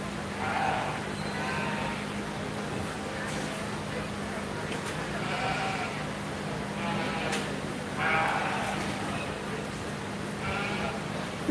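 Meat goats at a 4-H/FFA fair show ring give several short, wavering bleats spaced a few seconds apart over a steady crowd murmur and a low background hum.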